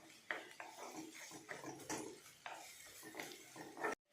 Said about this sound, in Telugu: ఇప్పుడు దీనిలోనికి నేను మనం రెడీ చేసుకున్న ఆమ్లెట్లో 1/4 భాగాన్ని దీంట్లో వేస్తున్నాను. వీటిని కొద్దిగా వేయించుకుందాము.